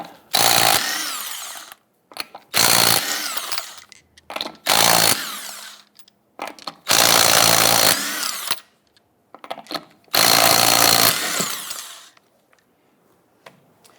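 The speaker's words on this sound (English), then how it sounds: "go ahead, loosen and remove your lug nuts." A power tool with a 19mm socket loosens and removes lug nuts from the wheel of a 1997-2006 Jeep Wrangler, in about five loud, close whirring bursts of a second or two each, separated by short quiet gaps.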